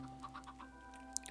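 Chickens cluck softly in Minecraft, a few short faint clucks over a steady hum of game music and ambience, with a brief sharp high blip near the end.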